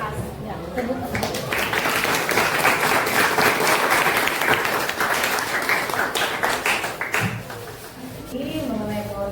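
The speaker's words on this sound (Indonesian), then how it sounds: "Ya, tepuk tangan." Sustained classroom applause from a group of students after a group presentation, dense steady clapping with voices mixed in throughout, easing off near the end as talk resumes.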